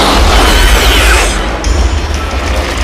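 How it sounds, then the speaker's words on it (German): A loud, booming gunshot blast from the sci-fi horror video game Dead Space, a heavy low-end impact with a crashing, mechanical tail lasting a few seconds. "Ein Schuss."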